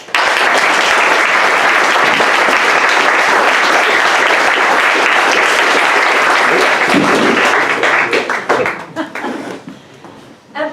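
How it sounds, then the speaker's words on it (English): Audience applause for Judy Foster at a Women in Athletics awards gathering, steady and loud for about eight seconds before thinning out into scattered claps. "So a round of applause please for Judy Foster."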